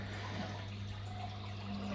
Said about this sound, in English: Oh no, water down the front of the tank.